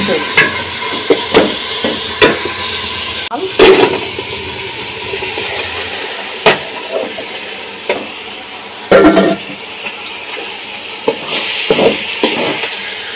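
A khichuri mixture sautés in a pan under a constant loud sizzle, with a spatula scraping and knocking against the metal at irregular intervals, close up.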